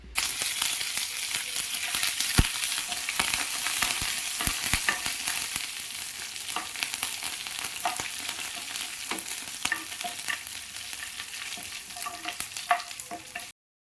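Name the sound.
sautéing curry leaves, dried chillies and mustard seeds in oil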